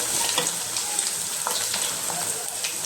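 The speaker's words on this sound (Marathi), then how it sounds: "आता आपण हे त्याच्या साह्याने असं पलटून घेऊया छान असे आपण हे कमी गॅसवरच चांगलं परतून घेणार आहे" Chicken chilli pieces stir-fry in a pan over low gas, giving a steady, close hiss of sizzling oil with light scraping and turning sounds throughout.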